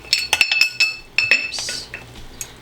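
A metal teaspoon clinks sharply against a pot several times while red curry paste goes into a chickpea curry with tomato sauce, in quick bright taps followed by a short soft scrape.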